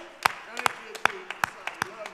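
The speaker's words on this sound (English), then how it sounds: "Could we clap our hands unto hallelujah, the Lord right now?" A church congregation claps hands, about six sharp, separate claps spaced roughly evenly across two seconds, fairly close, over a faint murmur of voices.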